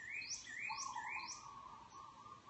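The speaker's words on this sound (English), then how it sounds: "Just listening to the beautiful birds and the water around." Faint birdsong near water, a few rising chirps repeated in a quick series alongside a lower sustained call, over quiet background hiss.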